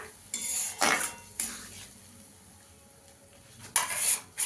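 Spices with turmeric and Kashmiri chili powder are stirred and fried in a pan, with three or four sharp metal clinks of a spoon against the pan over a quiet background sizzle.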